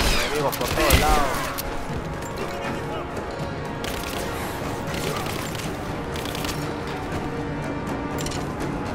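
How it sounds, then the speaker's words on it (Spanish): Gunfire in the video game Rise of the Tomb Raider, dense bursts and rapid shots over about nine seconds, loudest near the start, with a voice talking over the steady battle noise. "Resiste los disparos, Lara."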